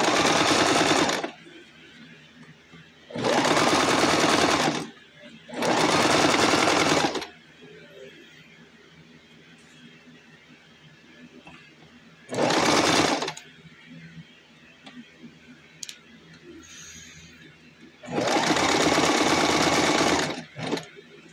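Sewing machine stitching together two pieces of fabric for a cape with a clip sewn inside, running in five loud sustained bursts of one to three seconds separated by quiet pauses.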